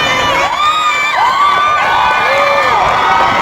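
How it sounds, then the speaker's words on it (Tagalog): A packed political rally crowd in Batangas roars with loud, sustained cheering and high shouts, voices swelling and overlapping in a continuous wave of noise. "Salamat sa mga nakatutulig ninyong palakpak."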